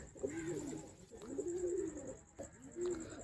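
Pet pigeons in a loft give three soft, rolling coos in a quiet, fairly faint passage. A steady high-pitched whine runs underneath.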